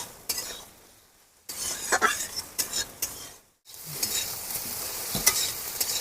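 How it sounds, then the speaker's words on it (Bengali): Soybean chunks sizzling in hot oil in a pan while being stirred, with a steady crackling fry broken by sharp scrapes and clinks of a spatula against the metal, close and fairly loud. "কতটা সুন্দর করে ভাজা হচ্ছে আর ভেজে নিচ্ছি কত সুন্দর করে"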